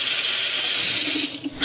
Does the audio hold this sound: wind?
no